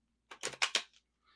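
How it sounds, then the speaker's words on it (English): Tarot cards being shuffled, a short burst of four or five crisp riffling flicks close by, fairly quiet and with no talking. "As I'm shuffling the tarot cards this week"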